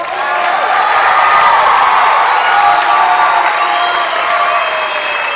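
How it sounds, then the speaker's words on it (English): Sustained crowd applause and cheering with scattered whoops at a university commencement in Hawaii, as degrees are conferred on graduates; dense and continuous throughout, with no speech over it. "You can applaud."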